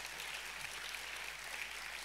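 A church congregation in Jogja claps during a sermon, producing an even, sustained wash of applause that sounds somewhat distant and moderately loud.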